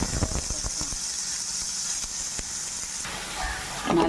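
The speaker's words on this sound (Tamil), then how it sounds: "கடுகு போட்டுக்கலாம். கடுகு பொரியட்டும்." Mustard seeds spluttering in hot oil in a pan while cooking an eggplant rasam: a steady close sizzling hiss dotted with sharp popping crackles that thin out toward the end.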